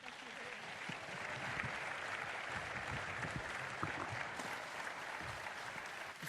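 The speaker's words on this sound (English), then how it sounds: "call for further applause" Applause from the audience at an EU tax symposium after a panel, steady clapping with some faint voices mixed in, heard fairly quietly at a distance.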